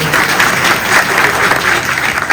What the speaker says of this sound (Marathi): टाळी तर वाजवा